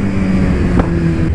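Kawasaki Z1000 motorcycle pulling away with the clutch slipping, a loud droning engine note that climbs slightly, with heavy wind buffeting over it.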